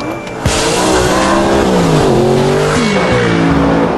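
An Audi R8 sports car roars loud and close, its engine note climbing through several rising sweeps of acceleration as it pulls away, with a brief squeal at the start.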